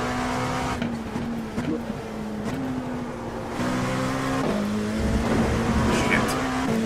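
Race cars in a sim racing game, an engine drone holding a steady pitch with shifts and rises as another car closes in behind, loud and continuous with a voice talking over it.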